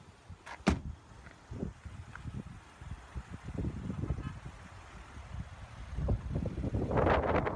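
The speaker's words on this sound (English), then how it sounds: "Now let's pop the hood and see what the 2015 Land Rover LR4 have to offer." The hood of a 2015 Land Rover LR4 is popped open with a couple of sharp latch clicks, then soft handling and rustling, and a rising breezy rush toward the end, with no talk.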